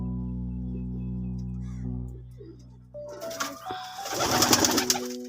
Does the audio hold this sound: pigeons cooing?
yes